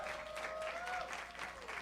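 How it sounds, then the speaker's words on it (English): A brief burst of audience applause at a Bushwick Book Club mainstage show in Seattle sounds soft and somewhat distant, blended with crowd murmur and a faint tonal sound. "let's hear a little more applause for Elisheba Johnson and Rachel Kessler"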